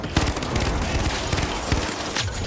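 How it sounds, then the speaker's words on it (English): A FAMAS rifle fires repeatedly in the shooter game The Finals, with close, loud cracks in quick bursts that continue throughout with little pause. "Yeah, the FAMAS feels kind of ridiculous."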